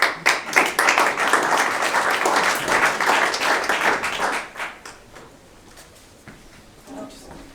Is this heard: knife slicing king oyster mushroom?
no